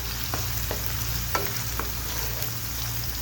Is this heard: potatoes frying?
yes